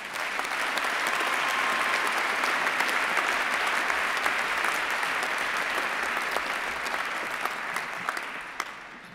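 A large audience claps for graduates at a postgraduate graduation ceremony, a broad, steady wash of applause heard from a distance that swells slightly and then tapers off toward the end.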